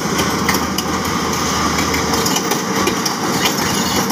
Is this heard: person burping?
no